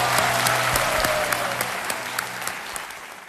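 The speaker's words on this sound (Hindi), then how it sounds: "तालियां बज जाए जसविंदर सिंह जी के लिए।" Studio audience applause on the TV quiz show Kaun Banega Crorepati: dense, loud clapping from a crowd for about three seconds, with a faint music tone underneath, gradually easing off, no speech.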